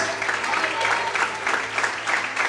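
A church congregation at an evening service claps together in praise, a steady wash of many hands at moderate volume with slight rhythmic pulses, and some voices mixed underneath.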